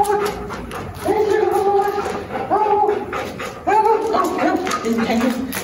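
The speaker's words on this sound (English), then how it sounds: "So as you can tell, Duke's still a puppy." Young Labrador puppy giving repeated yips and whimpering barks in short bursts, close and loud, with a person talking over them.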